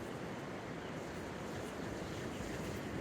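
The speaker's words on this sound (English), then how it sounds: "Pacific surf, guys." Constant roar of Pacific surf at Pismo Beach, California, waves breaking in a dense unbroken wash, with a bit of wind noise.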